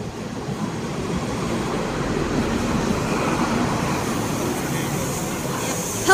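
Class 43 power car 43076 rolls into platform 1 at Grantham station, a steady, broad rumble of wheels and engine that holds level throughout, with faint background voices.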